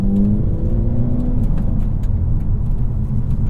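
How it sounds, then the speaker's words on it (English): A 2023 Hyundai Elantra N with a 2-liter turbo engine accelerates from inside the cabin, a loud rising engine drone that swells and then settles into a steady rumble. "This is one of the best 2-liter turbos on the market."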